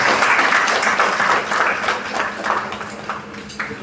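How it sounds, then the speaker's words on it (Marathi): An audience at a retirement felicitation ceremony claps to welcome children, sustained close applause that gradually thins and softens toward the end, with scattered individual claps. "मुलांना विनंती आहे की त्यांना सर्वांनी टाळ्या वाजवून स्वागत करायचं आहे"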